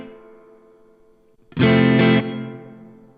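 A guitar chord through a Supro Airwave amplifier set to a tiled-bathroom room reverb: a decaying tail, then a loud struck chord that holds briefly and rings out with a short, bright reflective wash.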